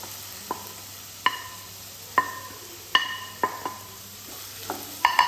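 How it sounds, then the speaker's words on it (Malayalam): Chopped shallots are sautéed in a pan, heard as a soft, low hiss under a series of sharp, ringing metal spoon clinks against the pan, spaced irregularly about every half second to one second. "ഒന്ന് വഴറ്റി കൊടുക്കാം"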